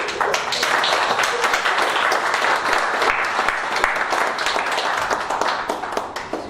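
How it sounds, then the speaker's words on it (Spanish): An audience at a lecture applauds to welcome a speaker, dense and loud clapping that runs steadily throughout with individual claps standing out. "Un aplauso"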